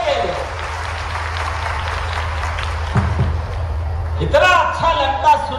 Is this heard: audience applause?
yes